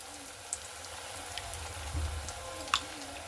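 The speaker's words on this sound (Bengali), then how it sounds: "তো কমিয়ে কমিয়ে কিন্তু ভেজে নিতে হবে খুব সুন্দর করে" Pointed gourd (potol) frying in hot oil over a lowered flame, a soft steady sizzle with a few sharp pops and spits, close by and fairly quiet.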